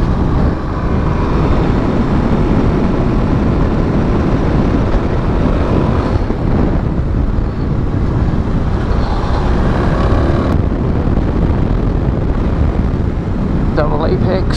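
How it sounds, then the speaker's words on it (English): A motorcycle ridden hard on a twisty road: a loud, steady engine drone with wind rush runs throughout, and a rider talks over it. "I'm riding like really quickly."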